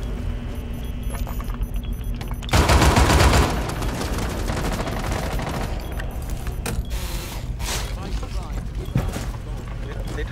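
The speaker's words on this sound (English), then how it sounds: "Okay, I'm gonna destroy this wall." A wall blown apart in Rainbow Six Siege on the Yacht map: a loud, dense burst of crashing debris lasting about a second, followed by scattered gunfire and clatter under ongoing voice chat.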